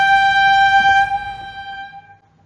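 A single short Indian Railways train horn blast with a steady, harmonic tone, holding for about two seconds before fading out.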